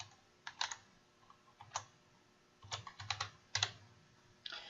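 Keys clatter on a computer keyboard in short irregular bursts of quick taps separated by pauses, close and fairly quiet, while entering flashcard details in Quizlet.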